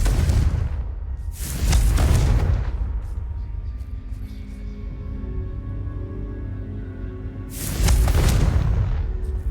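A Confringo fire spell cast in the game Hogwarts Legacy: two heavy booming explosions with deep rumbling roars, one near the start and another near the end, linked by a lingering low tonal hum and no voices.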